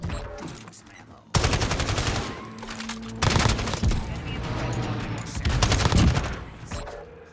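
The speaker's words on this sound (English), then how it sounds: "Sentry gun online." An automated sentry gun in the Call of Duty video game fires in loud, sustained bursts, three long volleys of rapid gunfire separated by brief pauses.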